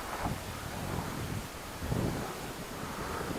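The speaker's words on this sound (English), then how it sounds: "We got the wind picking up from the back here." Wind blowing outdoors during a Hubsan X4 Desire H502S drone flight, a steady broad rush of wind buffeting the microphone with a slightly stronger gust near the middle, no talk.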